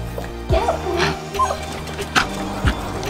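A dog whimpers and gives short yips close by, in several brief bursts over steady background noise.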